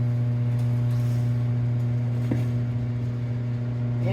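A Derek Weaver W-M807X tire machine spins a Harley FXR motorcycle tire, giving off a steady, loud motor hum with a strong low drone throughout and a brief clank partway through.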